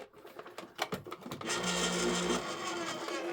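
Electric can opener running, a few clicks and scrapes first, then a steady whirring motor hum lasting about two seconds, close and moderately loud.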